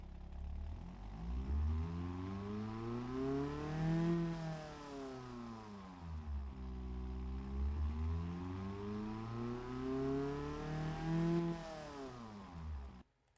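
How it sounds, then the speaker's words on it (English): A 1950s-style truck engine in the Automation car-building game revs up and drops back twice in steady sweeps, a loud, close simulated engine note with no talking. "So, it's not the highest revving unit in the world, as I've just realised, actually."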